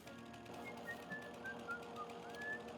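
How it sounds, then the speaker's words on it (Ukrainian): Thin, high whistled notes come in short glides and steady tones over a constant mechanical drone from a Farming Simulator 22 game session, repeating every half second or so. "Хто це свистить?"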